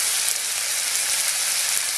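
A steady, loud hiss and sizzle of fish curry ingredients frying and being stirred in a hot pan, continuous and close with no voices.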